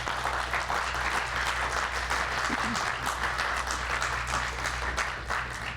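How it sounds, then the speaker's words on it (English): An audience at a development announcement in Chicago's North Lawndale applauds a jobs pledge, a dense, continuous clapping that holds steady throughout over a low background hum. "folks, you got to clap for that."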